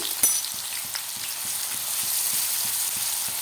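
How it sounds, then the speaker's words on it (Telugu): Chopped onions frying in hot oil in a pan for a country chicken curry crackle and sizzle steadily up close, with a sharp pop near the start and no voices. "ఇప్పుడు ఆయిల్ వేడెక్కాక ఆనియన్స్ వేసేసుకుందాము ఆనియన్ అదే వేసేస్తున్నానండి ఆయిల్లో"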